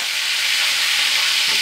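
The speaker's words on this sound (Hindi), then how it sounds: "ये अभी घी गर्म हो रहा है। ये देसी घी है" Desi ghee heating in a pan on the stove: a dense, steady hiss and crackle of sizzling fat, close and unbroken throughout, with no voices.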